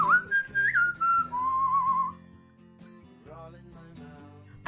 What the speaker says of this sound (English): I wish I could whistle like that.